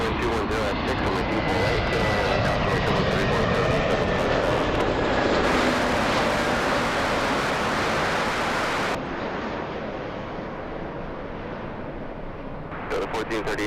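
Airliners arriving at Los Angeles International Airport make a loud, continuous jet roar that swells and fades. A voice can be heard faintly underneath.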